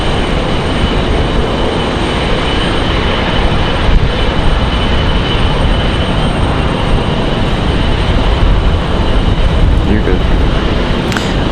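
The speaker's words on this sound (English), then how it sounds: "As Air France makes that turn onto the taxiway there" Air France airliner turning onto the taxiway at Raleigh-Durham International, a steady broadband engine roar holding loud and continuous throughout, with a faint voice underneath.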